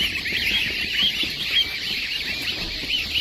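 African goslings peeping in a hatchery, a dense chorus of high, shrill chirps overlapping continuously at close range, with no talking.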